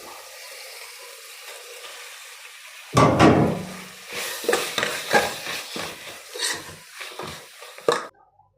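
Tomatoes are tipped into a hot pan, and after a quiet start a loud burst of sizzling breaks out, followed by uneven bursts of frying and stirring that fade at the end.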